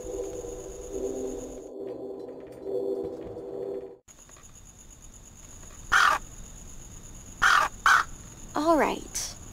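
A crow caws on a rooftop in the game Anna's Quest, several sharp close caws in separate bursts over a steady background hum.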